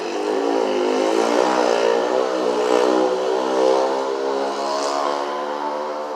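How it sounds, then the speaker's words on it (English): Mopeds pass close by on a street outside a brewery, a buzzing small-engine whine that swells and fades as they go by, loud and continuous for several seconds with no voices. "mopeds."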